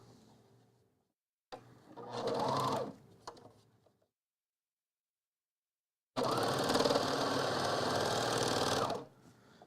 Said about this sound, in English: And so now you're sewing them together.